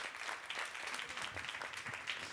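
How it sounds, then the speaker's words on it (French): Applause from an awards-ceremony audience at a French business trophy event, a steady patter of clapping hands with no voices, moderately distant and fairly faint throughout. "On applaudit, allons-y."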